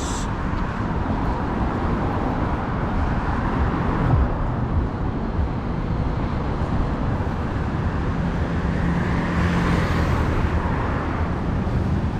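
A luxury car rolls past amid dense afternoon city traffic in central Kuala Lumpur, a steady broadband road roar that holds for the whole stretch with no clear single peak.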